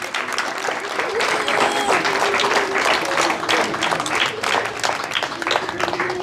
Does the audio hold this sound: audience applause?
yes